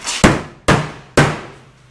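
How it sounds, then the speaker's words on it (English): A small body work hammer strikes a car door three times at an even pace. Each sharp metallic bang rings out briefly, loud and close, with no talking. "what we have right here is a little body work hammer"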